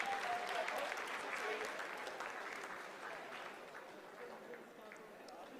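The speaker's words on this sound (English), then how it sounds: "Lot of applause" A room of people at Chandrayaan-3 mission control breaking into sustained applause during the lunar landing's descent phase, dense clapping that slowly fades, with voices under it.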